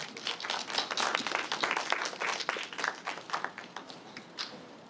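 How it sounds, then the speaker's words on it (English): Audience at a talk on Cebuano street food claps for a speaker, a lively burst of many individual hand claps at close range that gradually thins out toward the end. "Let us give a round of applause for Mr. Genesis Bedio."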